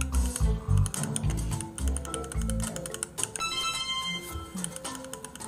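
Rapid typing on a computer keyboard during a fast-paced arithmetic game, clicking in quick bursts under loud, dense background music and game sounds.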